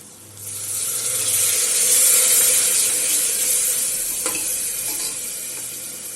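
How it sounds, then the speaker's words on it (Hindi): Thick soybean curry masala sizzles and bubbles loudly in a pan over a low gas flame as water is poured in and stirred, producing a steady frying hiss with faint scraping. "अब हम इसमें थोड़ा सा पानी डालेंगे।"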